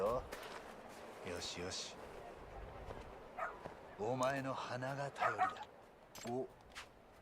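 A dog in the video game Lost Judgment barks and yips several times in short bursts, with a whimpering tone, mixed with a person talking over the scene.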